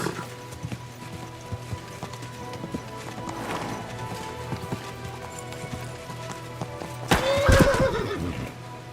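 A horse in the medieval video game Kingdom Come: Deliverance II clip-clops along on steady hooves under a faint ambient bed, then lets out a loud, sharp whinny near the end.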